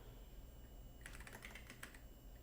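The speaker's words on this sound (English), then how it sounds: "Typing the wrong thing." Quick bursts of keystrokes on a computer keyboard, a short cluster of close, crisp clicks over a quiet background hum with no talking.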